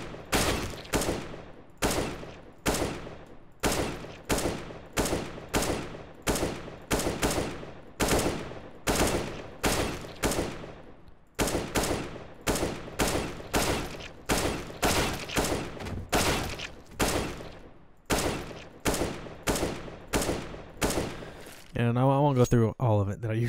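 Rapid gunshots fire one after another in CS:GO aim practice on an aim-training map, a steady run of loud, sharp single and burst shots with brief gaps, ending in a metallic reload-like clatter.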